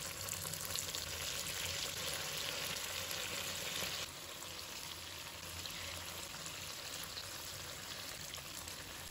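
Tofu slabs pan-frying over high heat on their second side, a steady close crackling sizzle running throughout, slightly quieter in the second half, with no talk.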